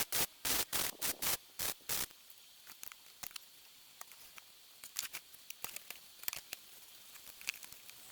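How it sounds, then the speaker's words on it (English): Tack welds joining the corners of a steel visor shelf for a campervan: a quick run of loud, harsh buzzing arc bursts over the first two seconds, then only scattered faint crackles and ticks. "now we are going to tack weld the corners"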